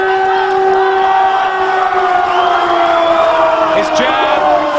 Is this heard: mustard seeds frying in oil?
no